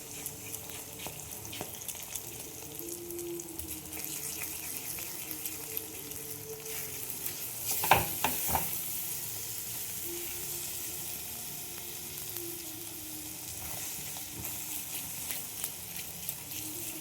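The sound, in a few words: beaten eggs frying in hot oil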